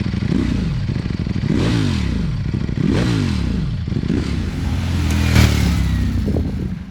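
A 2021 Ducati Panigale V4 S engine rasps and revs while riding, with repeated rising and falling pitch sweeps as the rider shifts through gears, loud and close throughout.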